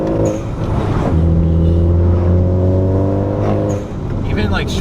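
A modified Honda Civic Type R engine drones steadily up close, its revs rising and holding with a strong harmonic hum, as a voice talks over it.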